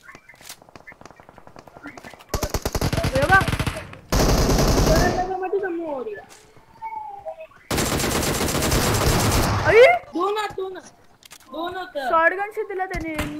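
Gunfire from the shooter game PUBG Mobile, with a shotgun in use, crackles in several loud, dense bursts separated by gaps, while voices talk in between and over the shooting.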